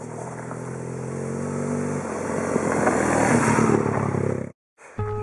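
A 2010 BMW R1200 GS motorcycle with its flat-twin engine runs loudly and steadily close by, its engine note rising as it pulls, then cuts out abruptly before briefly starting up again.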